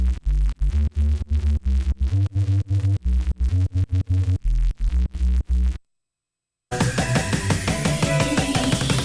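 A synthesized octave grains effect from a music production plugin in an electronic sample flip: choppy, evenly pulsing tonal stabs, then a short silence, then a dense, continuous, textured layer of sound.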